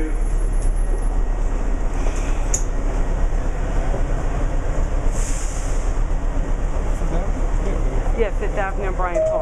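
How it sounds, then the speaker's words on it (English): A New York City 7 subway train departing 5th Avenue station rumbles and clatters loudly on the rails, with scraping and squealing wheel noise building toward the end. "This is the number 7 train to Times Square."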